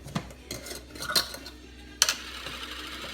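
A metal spoon scraping and clinking against a jar while digging out dark roux for a Cajun shrimp stew, several sharp close clinks and scrapes spaced irregularly over quiet kitchen background.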